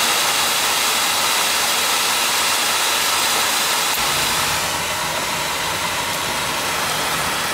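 An oil-fired boiler burner roars steadily with a loud, broadband rushing hiss, and a low rumble fills in partway through as the flame settles.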